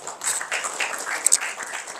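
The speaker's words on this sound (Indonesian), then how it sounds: "Tepuk tangan untuk Anda semua." Audience applause at an Indonesian campus event, a brief burst of scattered clapping heard fairly faintly over a couple of seconds, with a couple of sharper claps standing out near the middle.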